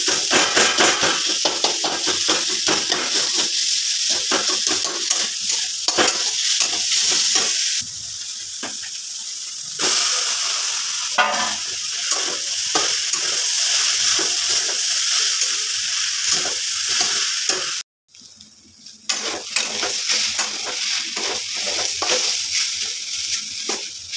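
Leafy greens stir-frying in a pan with cumin added, a steady loud sizzle with stirring scrapes throughout, briefly cut to near silence before the frying hiss resumes.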